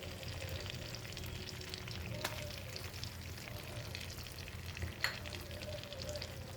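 Ginger garlic paste frying in a pan for paneer butter masala, a steady close sizzle and spatter with light stirring scrapes and a couple of sharper pops, no voices.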